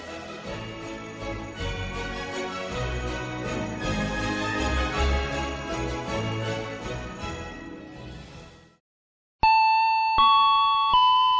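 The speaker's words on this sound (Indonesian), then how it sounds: "Dengar, lonceng sudah berbunyi." Busy music plays, breaks off into a short silence, then a bright bell chime rings out in a few clear, sustained tones at a church Christmas Sunday school service.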